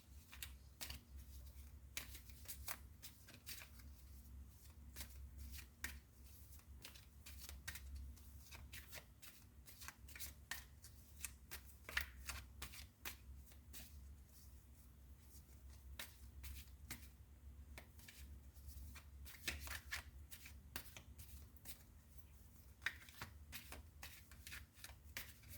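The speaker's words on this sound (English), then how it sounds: "let me shuffle your cards" Tarot cards are shuffled by hand continuously, a close, soft stream of irregular flicks and slaps with sharper riffles scattered throughout, over a low room hum and no talk.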